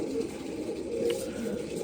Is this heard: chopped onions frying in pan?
no